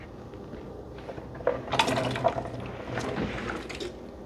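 Potatoes tip into a pot of potato soup with a few soft splashes and wet plops in quick succession, faint and close, followed by a brief low slosh of liquid.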